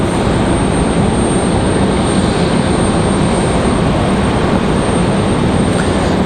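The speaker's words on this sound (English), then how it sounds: "Republic Airways 4618 from LaGuardia" A Republic Airways jet airliner from LaGuardia roars loudly and steadily at Raleigh-Durham International Airport, a dense continuous engine rumble with no voices.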